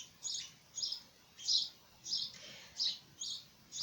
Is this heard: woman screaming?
no